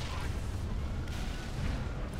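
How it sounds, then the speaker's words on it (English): Distant rumbling explosions and artillery-like booms from across a river in the Halo 3 video game, a steady low continuous roar with no clear separate blasts. "There's lots of explosions across the river."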